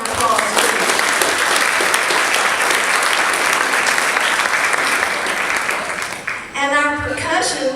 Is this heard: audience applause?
yes